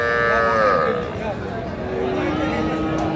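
A young bull calf moos at a busy cattle market, one long drawn-out bellow followed by a lower, shorter call, loud and close over a murmur of crowd noise and talk.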